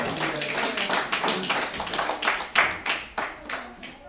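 A church congregation at a revival service claps in acclamation during a sermon, a crowd of handclaps in a rough, fast rhythm with some voices mixed in, fairly loud and steady throughout.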